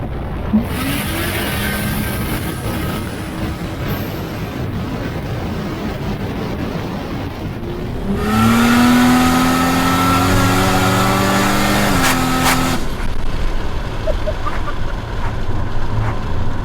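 An 800-horsepower Ford Barra-engined FPV F6 ute idles roughly, then surges into a loud rising rev around midway, with strong harmonic whine climbing and dropping as it accelerates nearby.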